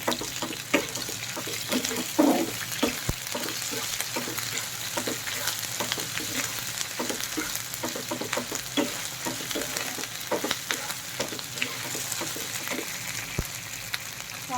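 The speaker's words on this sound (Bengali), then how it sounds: "এক টেবিল চামচ রসুন বাটা এক টেবিল চামচ আদা বাটা এটা দিয়ে হালকাভাবে একটু নেড়ে নেব" Garlic and ginger paste frying in a pan while being stirred, a steady close sizzle punctuated by repeated scraping and tapping strokes of a spoon throughout.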